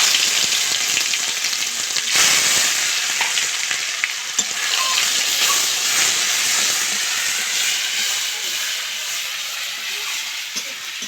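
Ginger garlic paste frying in oil, a loud, dense, continuous sizzle with a steamy hiss close by, swelling after the paste drops in and holding steady throughout, with no talking.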